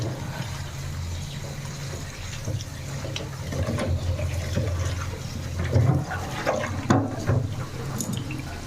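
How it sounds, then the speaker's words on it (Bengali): Spinach leaves are rinsed in water in a home kitchen, giving a low, steady wash of swishing and running water with a few soft splashes near the end. "চলো পালক শাকটা প্রথমে ভালো করে ধুয়ে নেবো"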